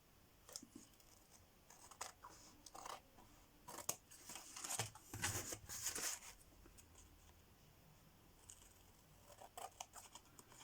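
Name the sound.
cutting paper scraps with scissors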